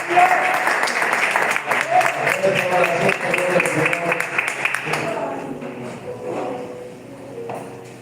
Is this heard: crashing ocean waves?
no